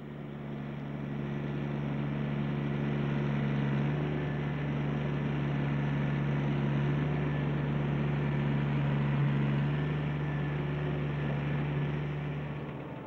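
A Ford compact tractor engine runs steadily at a low, even idle with a constant humming drone that stays moderately loud throughout with no voices.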